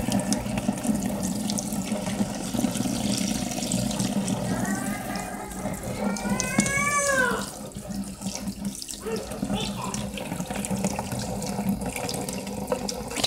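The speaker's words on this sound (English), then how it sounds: "Now I'm gonna rinse it off." Tap water runs steadily into a kitchen sink as a child's snack tray is rinsed under it, a continuous close splashing with brief changes in flow midway and no talk.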